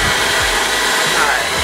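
A hair blow dryer roars loud and close as it runs along the top of Type 4 natural hair, a steady airy whoosh with slight shifts as it moves.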